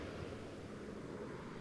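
Steady wind blows across an open airport, a faint, even rushing with no voices.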